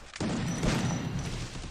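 An M1014 shotgun fires in an online shooting video game, giving one sudden, heavy blast followed by a dense rumbling tail of reverberation.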